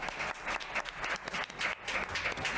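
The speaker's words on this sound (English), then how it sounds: "Welcome, Olivia. Round of applause." Audience applause welcoming a panelist onto a link-building panel session, steady clapping from a room of listeners filling the whole stretch.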